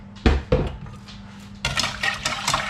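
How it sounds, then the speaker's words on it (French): Cream and sugar being stirred in a pan just taken off the gas flame for crème brûlée: two sharp knocks of utensil against metal, then a denser run of scraping, clattering stir sounds, moderately close with no talk. "je mélange un petit coup"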